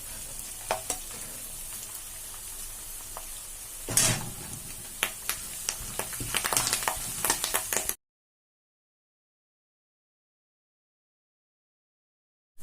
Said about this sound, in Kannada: ಈಗ ಇದನ್ನ ಕರಿಬೇವನ ಏನಿದೆ ಇದಕ್ಕೆ ಹಾಕೋಣ.